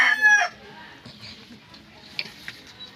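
A young backyard rooster, a stag bred from SBR and McLean lines, gives a short crow at the start, followed by quieter clucks and soft farmyard noise.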